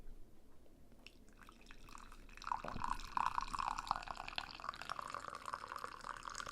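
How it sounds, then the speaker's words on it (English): Hot tea is poured into a cup, a soft trickle that swells into a steady, bubbling stream of liquid, close and moderately loud, with no voices over it. "Pour up the tea on that one."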